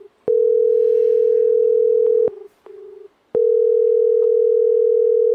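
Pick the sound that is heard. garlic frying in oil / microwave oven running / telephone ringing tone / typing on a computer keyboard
telephone ringing tone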